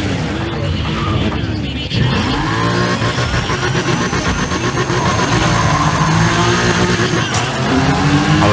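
BMW M3 racing in Need for Speed: ProStreet, a loud, steady engine roar held at high revs with a brief gear-change dip, continuous and close, with someone talking over it.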